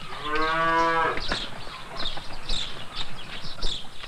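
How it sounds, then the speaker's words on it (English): A cow on an Italian farm beside Lake Bracciano lets out a loud, drawn-out moo at close range, followed by quieter rustling, shuffling and faint farmyard sounds. "The cows must be taken to pasture twice a day, and then down to be watered."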